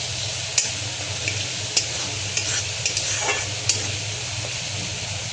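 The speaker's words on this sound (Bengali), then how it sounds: "এখন আদা বাটা, রসুন বাটা, কাঁচা লঙ্কা বাটা দিয়ে একটু নেড়ে নিচ্ছি" A paste of ginger, garlic and green chilli fries in a pan with a steady sizzle as it is stirred, with light spatula taps and scrapes ticking through at irregular intervals.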